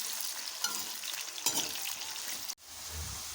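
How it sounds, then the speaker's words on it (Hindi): Taro root (arvi) frying in hot oil while being stirred, a steady close broadband sizzle with scraping stir noises, a brief clank near the middle and a short gap before the sizzle resumes. "ऑयल में डालने के बाद इसको साथ साथ हिलाते भी रहें"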